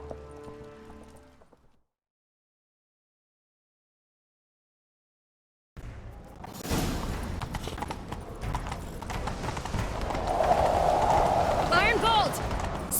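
Hooves of a galloping horse in The Witcher 3: Wild Hunt, a fast rhythmic clip-clop that kicks in after a silent gap and runs on steadily, mixed with game sounds and a brief whinny.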